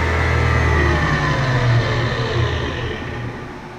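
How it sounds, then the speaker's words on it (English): SCMI Formula T1 shaper spindle braking to a stop, a loud close machine hum and whir that steadily winds down in pitch and fades over a few seconds. "Use the brake to stop the spindle."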